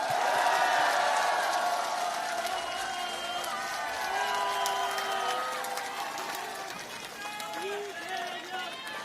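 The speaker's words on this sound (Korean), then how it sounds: "박수 한번 부탁드립니다" A crowd at a political campaign rally in Korea cheers and claps, with whoops and excited voices rising over a dense, steady wash of crowd noise that slowly fades.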